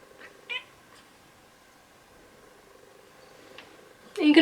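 A cat gives a few short, faint squeaky meows spaced apart in a quiet room, ending in a louder, closer cry.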